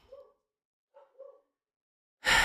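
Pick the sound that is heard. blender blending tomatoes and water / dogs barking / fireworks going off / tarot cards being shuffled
dogs barking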